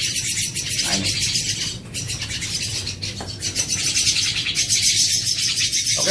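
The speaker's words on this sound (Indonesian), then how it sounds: "Kita akan meloloh lolohan anak jalak kebo ini kurang lebih ada 15 ekor ya para sahabat ya." A brood of about fifteen Javan myna (jalak kebo) chicks shrieks and chirps insistently during hand-feeding, a loud continuous chorus of high, raspy begging calls close by.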